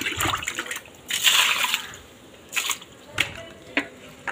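Water splashes and pours in uneven bursts during household cleaning, with wet slaps and a longer gush in the middle, close by, and indistinct voices in the background.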